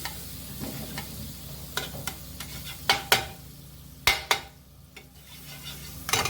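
Pav bread toasting in butter with pav bhaji masala on a hot pan, with a low steady sizzle and several sharp scraping knocks of a spatula stirring it, spaced irregularly and fairly close.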